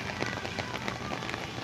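Steady rain pours outside a restaurant, a dense, continuous patter on surfaces close by, loud and even with no voices over it.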